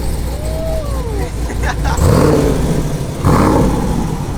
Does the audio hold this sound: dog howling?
no